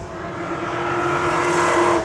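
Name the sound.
cars revving and accelerating at a car meet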